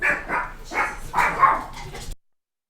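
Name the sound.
dog barking at a delivery at the door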